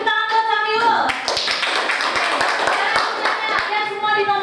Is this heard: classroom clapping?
yes